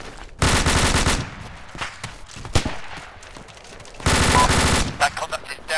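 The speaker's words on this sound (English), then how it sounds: "rapid fire." Rapid gunfire during a military section exercise, two sustained loud bursts of fast automatic fire with scattered single shots and movement between them, outdoors.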